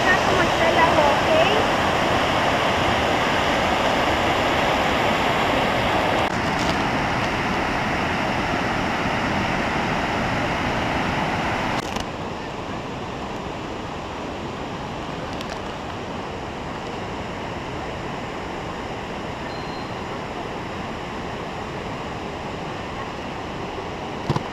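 The Agua Azul waterfalls and river in the Chiapas jungle roar with steady, loud rushing water that stays unbroken throughout and eases slightly partway through.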